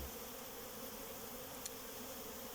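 Honeybees collecting pollen buzz in a steady, soft drone with no voices, and one brief brighter buzz passes close by.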